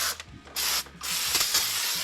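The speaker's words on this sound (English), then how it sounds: "Spray some brake cleaner." Aerosol brake cleaner hisses in several short bursts onto the rear brakes of a Honda CR-V, loud and close, with brief pauses between sprays and no talking.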